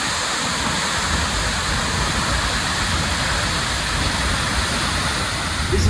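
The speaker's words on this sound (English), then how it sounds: "Not many waterfalls give this angle where you can see it from behind." An Icelandic waterfall heard from behind the falling water, a loud, steady broadband roar of pouring and splashing water with constant wind rumble, close and unbroken throughout.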